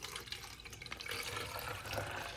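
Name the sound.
water filling up to a level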